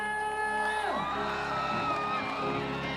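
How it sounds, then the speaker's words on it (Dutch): A large crowd at a live DJ event cheers and whoops loudly over music, with shouts rising out of the roar of the crowd. "Een heel groot applaus voor jezelf!"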